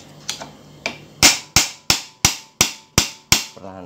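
A hammer taps the steering bearing of a Yamaha Mio M3 motorbike with about ten sharp metallic strikes, a few light ones and then a steady, louder series, close up with no talk.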